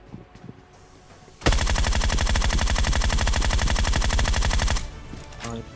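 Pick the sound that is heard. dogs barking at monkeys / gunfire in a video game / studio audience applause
gunfire in a video game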